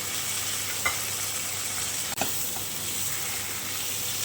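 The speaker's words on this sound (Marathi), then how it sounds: "आणि गाजर छान परतून घेऊ आता यामध्ये टोमॅटो घालून घेऊया" Carrots and tomato sautéing in a pan for tomato soup, a steady hissing sizzle throughout with a couple of faint spatula taps, close and continuous.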